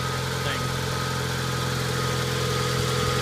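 A 1990 Mazda Miata's 1.6-liter engine idles steadily and loudly up close, a constant even hum with no change in pitch throughout.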